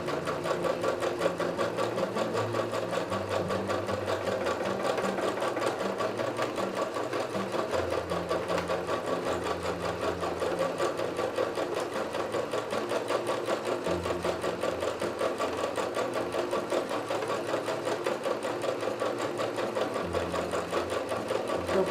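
Sewing machine stitching wavy quilting lines into fabric for a patchwork-style pouf cover, a steady close mechanical whir running continuously with slight changes in pace as the cloth is moved back and forth.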